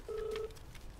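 A phone in a film scene sounds one short, faint electronic ring tone. A single steady beep is followed by quiet room sound.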